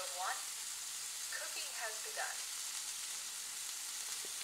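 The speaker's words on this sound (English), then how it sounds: "You can hear that sear." A burger patty sears on a hot skillet with a steady, close hiss of frying running throughout, with no talk over it.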